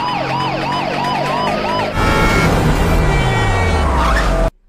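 An ambulance siren wails loudly and close, its rising and falling tone sweeping steadily, then the vehicle noise surges and the pitch drops as it passes before cutting off abruptly.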